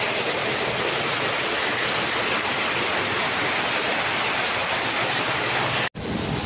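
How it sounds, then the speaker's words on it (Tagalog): Heavy rain pours down steadily and loudly at a Pampanga work site, a dense unbroken hiss of water with a brief dropout near the end. "Grabing ulan. Umulan na naman lalo."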